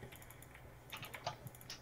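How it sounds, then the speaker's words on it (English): A Razer computer mouse is clicked rapidly, giving a close, quiet flurry of crisp plastic clicks in uneven bursts with no voices. "Dude, it actually sounds like legit clicking."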